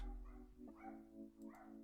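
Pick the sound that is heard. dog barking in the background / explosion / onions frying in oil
dog barking in the background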